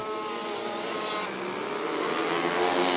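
Micro sprint race cars roar steadily around a dirt oval during an evening feature, the engines' rising drone filling the track with no break in the sound.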